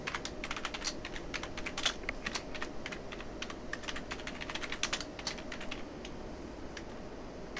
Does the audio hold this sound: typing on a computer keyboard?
yes